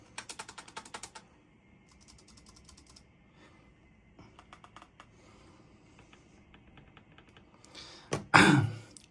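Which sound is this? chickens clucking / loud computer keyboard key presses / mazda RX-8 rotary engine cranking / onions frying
loud computer keyboard key presses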